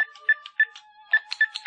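A telephone rings in short electronic bursts in a quiet indoor scene of a radio drama, several quick trilling pulses close and clear with no talking over them.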